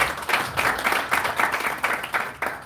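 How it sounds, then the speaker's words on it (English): An audience applauds Honorable Ndindi Nyoro at a plenary session in bursts of clapping that swell and fade unevenly, fairly loud and close, with no one speaking over it. "let's give a good round of applause to Honorable Ndindi"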